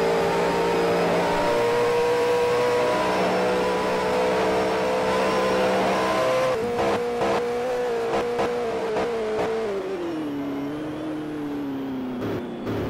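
Alfa Romeo touring race car on the Pukekohe circuit during a 1985 New Zealand touring car round, its engine droning loud and steady, then changing pitch with rapid gear and throttle shifts as it runs deep into a hairpin under braking.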